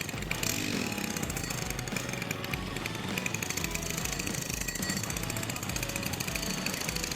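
A STIHL HT133 pole pruner's small two-stroke engine runs steadily at close range after carburetor work, a dense buzzing drone with rapid, even firing that holds throughout with no talk over it.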